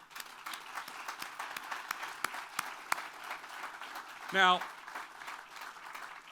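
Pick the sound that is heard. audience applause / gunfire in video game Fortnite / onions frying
audience applause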